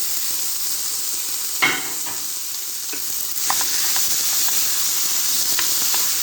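Steady loud sizzling of diced chicken breast sautéing in a hot pan, with a few scraping stirs and a brief burst of louder hissing partway through.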